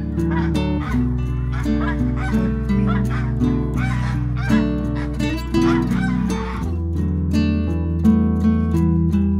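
Geese and other poultry, including Muscovy ducks and chickens, honk loudly and almost continuously on a farm, their overlapping harsh calls forming a dense, steady chorus with no talk.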